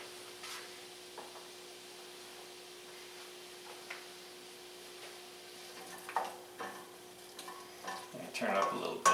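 Chopped medium-large yellow onion frying quietly in a pan for a chicken stroganoff, a faint steady sizzle with light scrapes that grow into louder clatter and stirring near the end.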